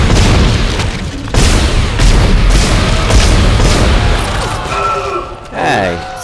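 Gunfire and heavy impacts from the sci-fi horror video game Dead Space come as loud booming blasts and crashes that fill the clip.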